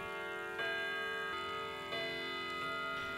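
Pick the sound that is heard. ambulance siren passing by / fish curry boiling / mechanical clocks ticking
mechanical clocks ticking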